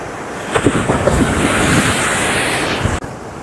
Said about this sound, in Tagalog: mga alon na malalakas